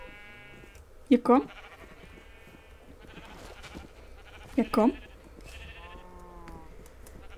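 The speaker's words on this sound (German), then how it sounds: "Ja, so ein feines Schaf." Sheep in the Minecraft video game bleating twice, each a short wavering call, several seconds apart, with someone talking softly in between.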